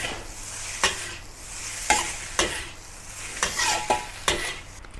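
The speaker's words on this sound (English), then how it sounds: "and then keep stir frying it." Steady sizzling of rice stir-frying in a hot wok with repeated scraping strokes of a spatula every half second or so, loud and close, no voices.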